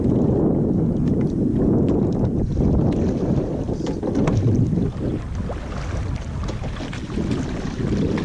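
Oars of a rowing boat being spun with back strokes on the water sound as a steady low rush of water and hull noise with wind buffeting. Faint knocks and splashes come through at a fairly even pace.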